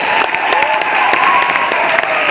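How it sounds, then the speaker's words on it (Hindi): Loud, steady applause from a crowd, dense clapping filling the whole stretch with no pause. "तालियां बजाना तो जोरदार तालियां आप लोग अपने लिए बजाइए।"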